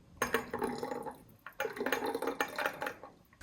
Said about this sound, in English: So what we're going to do now is pour this in.